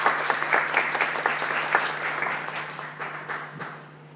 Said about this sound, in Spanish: para quienes pido un aplauso muy especial